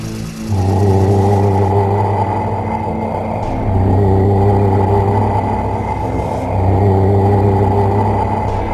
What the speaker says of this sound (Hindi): गुल्ली ने गाड़ी की स्पीड बढ़ाई और तीनों वहां से फरार हो गए